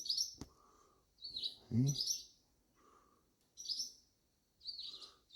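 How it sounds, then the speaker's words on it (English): Young barn birds chirp in short bright bursts of tweets, repeating every second or so close by, while a person murmurs briefly in between. "you guys are the cutest barn birds"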